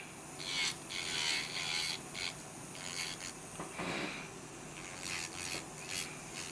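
Quiet, intermittent high-pitched whirring and rasping of an electric nail drill filing builder gel on a nail, in short bursts with brief pauses, close up.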